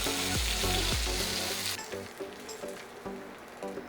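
Hot oil left in a pan after frying prawns crackles loudly, then settles into a quieter sizzle broken by scattered pops and light scraping.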